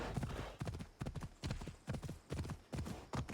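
Horse hooves clip-clopping in an ancient Greek setting in Assassin's Creed Odyssey, a steady rhythmic trot of close, clear hoof strikes repeating about every half second.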